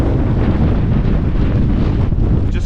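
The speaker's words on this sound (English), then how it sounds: "The wind's just whipping along" Strong Storm Agnes wind on Snowdon roars continuously, buffeting the microphone with loud, gusty rumbling and a rushing hiss.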